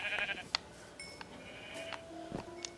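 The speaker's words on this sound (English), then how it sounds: "Okay, I found another sheep" Short, faint bleats from sheep in the Minecraft video game sound over a quiet background, with a few brief clicks in between.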